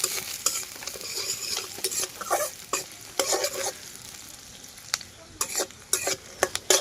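Onions fry in a pan for a village-style chicken curry while being stirred vigorously, with crackling sizzle and frequent spatula scrapes and clatters in an uneven, busy rhythm, close and fairly loud.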